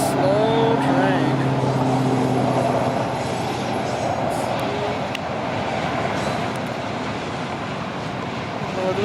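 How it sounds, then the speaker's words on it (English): A long, heavily loaded BNSF grain freight train rolls slowly past at about 25 mph, a steady loud rumble and clatter of wagons filling the whole stretch, with a faint horn-like tone early on and a voice talking over it. "This is a grain train. This is hauling grain."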